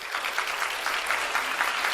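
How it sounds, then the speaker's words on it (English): Brief, fairly soft applause from a small group, an even patter of clapping with a light rhythmic pulse and no speech over it. "Everybody give her a big applause."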